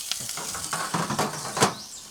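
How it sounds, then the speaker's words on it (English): Steak searing on the hot floor of an Ooni Pro multi-fuel outdoor pizza oven: a steady close sizzle and hiss, broken by a few sharp metallic clanks and scrapes as the meat goes in. "Steak straight on and back inside there"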